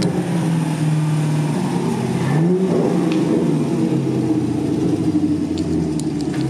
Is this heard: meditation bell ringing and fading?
no